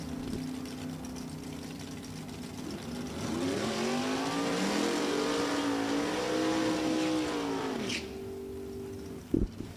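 A 1992 Corvette drag car with a 565 cubic inch engine at a Super Gas elimination round, its engine droning and revving steadily, then rising in pitch as it pulls away, heard from a distance.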